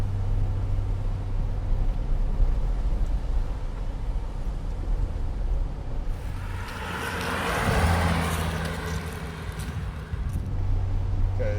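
A Mercedes W108 barn find drives uphill and accelerates, a steady engine drone and road noise that swells into a rising, louder pull midway through.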